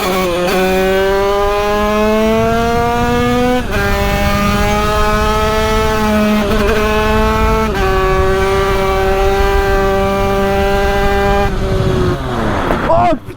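A 70cc moped engine screams at high revs, its whine dropping as the rider brakes and shifts down through the gears, then climbing again in a long, loud, continuous run with rising and falling pitch.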